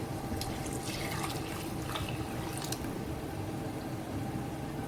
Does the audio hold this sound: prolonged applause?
no